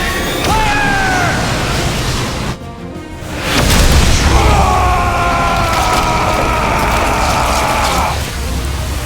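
A giant victory cannon fires in The Wonderful 101 video game: a loud, sustained roaring blast with whining tones layered over it, briefly dipping before surging again and holding steady.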